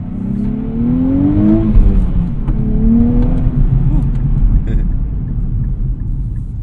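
Engine of a 2024 Nissan Z with a 6-speed manual revving from inside the car, a loud close rumble that rises and falls in pitch through a couple of throttle blips, then settles into a steady drone.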